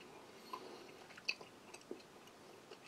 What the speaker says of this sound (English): You need to chew that for a long time before you can swallow.